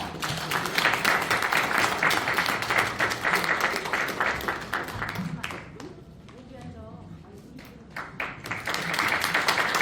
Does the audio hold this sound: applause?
yes